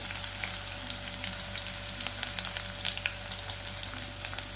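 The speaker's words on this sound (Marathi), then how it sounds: "कांदा कांदा तळून घ्यायचा आहे" Onion fries with bay leaf in a pan for a dhaba-style shev bhaji, giving a continuous close sizzle with scattered crackling pops and occasional stirring sounds.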